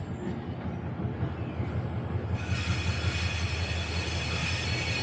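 A train rumbles past nearby on the line between Yangwon and Seungbu stations in South Korea, with a steady low roar and clattering wheels, growing slightly brighter and louder partway through.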